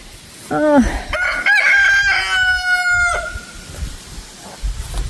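A rooster crows loudly and close in a garden, a long drawn-out call with other chickens clucking around it, then quieter yard sounds afterward.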